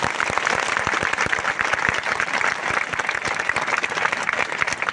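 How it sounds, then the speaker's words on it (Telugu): An audience at a religious gathering applauds loudly and steadily for several seconds, dense rapid clapping close to the microphone with no talking. "అందుకే ఒకసారి గట్టిగా గురుస్వాములకు చప్పట్లు కొట్టారు."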